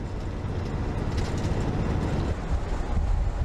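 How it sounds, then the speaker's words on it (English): A steady, loud rumble of a passing train close by at night near Torrens Creek, a continuous roar of wheels and rolling stock with no voices. "just had a train going the other way."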